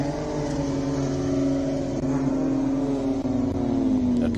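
A race car at the Simola Hillclimb roars past close by, its engine note climbing and then sliding slightly lower as it accelerates up the course, loud and sustained throughout.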